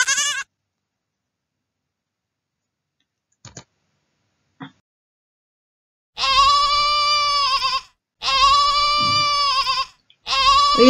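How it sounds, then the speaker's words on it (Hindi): A goat bleats in long, loud, quavering cries, three calls in close succession after a short opening bleat and a quiet stretch with a couple of faint clicks. "बकरी मैं करके चली गई."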